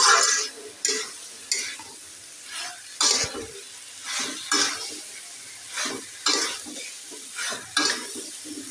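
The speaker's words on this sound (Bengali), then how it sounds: "মশলার সঙ্গে সুন্দর করে কষিয়ে নিলাম" Food sautéing with spices in a pan sizzles steadily under repeated rhythmic scrapes and clinks of a spoon stirring against the pan, close and clear, about a dozen strokes.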